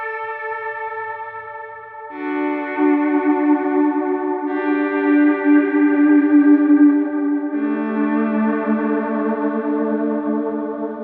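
Soft swelling electric guitar notes from an HX Stomp XL fade in one after another, washed in echoing delay and reverb, forming a sustained ambient pad with no talking.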